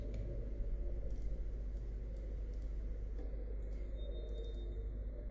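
Steady light clicking of keyboard keys and spacebar taps while entering text in AutoCAD-like parametric design software, soft and close over a constant low hum.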